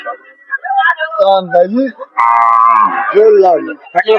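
At the Bamundi cattle market, a cow brought with her calf gives a drawn-out, fairly close moo amid a stretch of people talking nearby.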